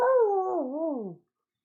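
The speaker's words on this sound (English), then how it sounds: "Sorry for all the dogs." A dog gives one sustained, wavering howl that slides downward in pitch, fairly loud and close, then cuts off into silence.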